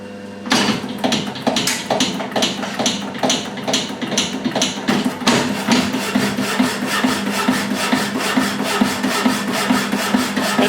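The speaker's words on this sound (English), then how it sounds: "the saw keeps on cutting" Milbo 5-inch power hacksaw, made in Melbourne, cutting in a workshop with a rhythmic back-and-forth rasping stroke, loud and steady and repeating about twice per second.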